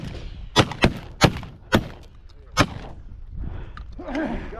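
Shotgun blasts from a partridge hunt in the Newfoundland backcountry: five loud, sharp reports in quick succession, then quieter rustling, with a voice faintly joining near the end.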